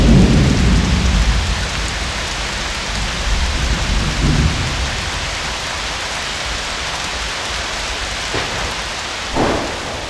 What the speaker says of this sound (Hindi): फिर उससे पता चला बहुत ज़्यादा बारिश है